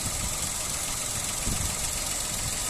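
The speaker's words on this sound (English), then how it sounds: "Engine sound very nice and smooth, nice and clean" A 2007 Toyota Yaris 1.0 VVT-i petrol three-door hatchback with manual gearbox idles steadily nearby, giving an even, smooth low hum with a faint rhythmic tick and no talk over it.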